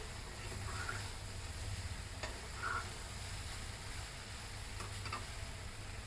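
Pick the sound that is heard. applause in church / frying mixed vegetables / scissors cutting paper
frying mixed vegetables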